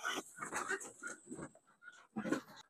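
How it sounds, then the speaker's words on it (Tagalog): Young goat kids on a farm bleat and cry after being weaned from their mothers, several short wavering calls in quick succession, moderately close. "naririnig niyo po yung mga bisirong kambing, umiyak po sila."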